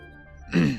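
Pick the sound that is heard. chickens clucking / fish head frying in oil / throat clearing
throat clearing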